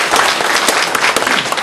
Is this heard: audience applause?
yes